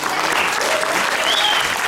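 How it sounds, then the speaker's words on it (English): Audience applause at a Bengali cultural fair, sustained and fairly loud for a couple of seconds, with a faint voice and a brief whistle-like tone over the clapping. "So let's give them all a round of applause for their efforts."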